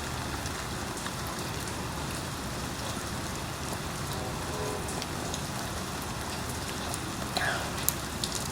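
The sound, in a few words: rain picking up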